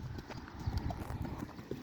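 A young horse's hooves clip-clop in quick, uneven beats close by, joined by faint shuffling and background noise.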